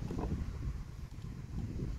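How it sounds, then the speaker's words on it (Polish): Strong wind buffets the microphone outdoors on a sunny day on a farm, a steady low rumbling roar with gusty fluctuations lasting throughout, no speech. "tylko wiatr wieje mocny"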